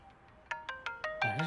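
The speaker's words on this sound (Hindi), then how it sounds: "अबे फोन आ रहा है भाई किसी का" Mobile phone ringtone rings indoors, a series of bright evenly spaced electronic tones that grow louder before a fuller melodic burst, close and clear, with no talk over it.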